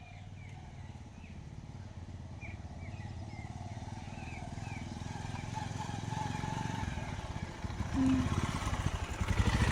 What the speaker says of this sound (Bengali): ওই যে বাইকটা স্টার্ট নিয়েছি, ঠান্ডায় তো ইঞ্জিন সহজে স্টার্ট হতে চায় না।